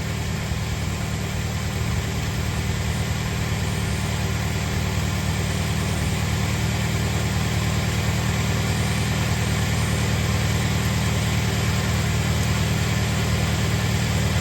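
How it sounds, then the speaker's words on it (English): A 1st gen Toyota Tacoma with a 2.7L engine idles steadily nearby, a constant low, even rumble with no talk over it. "and the truck stayed running."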